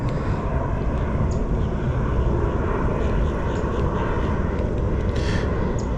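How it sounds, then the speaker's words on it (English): A fixed-wing airplane passes overhead above Lake Ida in Florida, a steady, continuous engine drone that stays loud and even from start to finish, with no talk over it. "There's an airplane going over right now."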